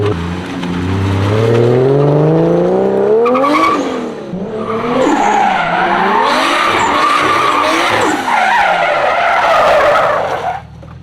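A car drifts with loud tire squeal and skidding, the engine revving and rising in pitch before the tires screech in long wavering bursts over about ten seconds, close and without speech.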